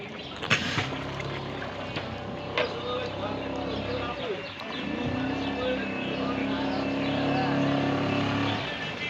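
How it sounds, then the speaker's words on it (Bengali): A motor boat on Dal Lake in Srinagar, its engine droning steadily and close throughout, with splashing and wind noise and a few knocks; people talk faintly beneath the motor. "মোটর বোট নিয়েছে তাড়াতাড়ি ঘোরার জন্য"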